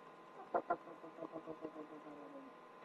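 A chicken in a henhouse gives two sharp, close clucks followed by a run of softer, quicker clucks against a quiet background.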